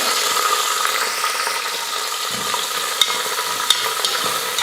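Peas and grated carrot sauté in oil with a bright, continuous sizzle and a few sharp clicks of stirring, close and unaccompanied by voices.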